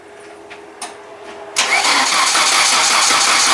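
A cold classic car engine cranks weakly a few times, then catches at once and roars into a loud, steady run close by.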